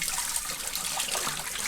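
Dirty water pours steadily from the tank of a VAX Dual V carpet shampooer, a continuous close splashing rush of liquid without a break, with no talking.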